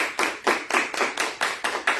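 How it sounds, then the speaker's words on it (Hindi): A church congregation at Sunday worship claps together to welcome guests, producing crisp, rhythmic unison claps at a brisk, steady pace, close and fairly loud with nothing else underneath. "मैं चाहूंगी हम सब तालियां बजाकर उनको वेलकम कहेंगे।"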